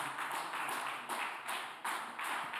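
Audience applause after a choir performance at a church celebration of Ascension and Pentecost, a steady, dense wash of many hands clapping that swells slightly in waves throughout.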